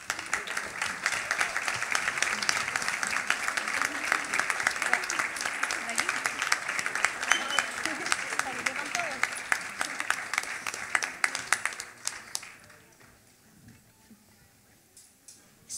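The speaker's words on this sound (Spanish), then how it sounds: "que le damos un aplauso para que entren." At a folk singers' gathering, an audience claps for the dancers as they come on, a dense, lively burst that holds steady for about twelve seconds before dying away to quiet murmurs.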